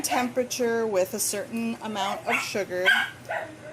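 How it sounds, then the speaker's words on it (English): A dog barks and yips repeatedly while a person keeps talking over it, the barks close and insistent. "Please excuse my dog, she's very disturbed about something."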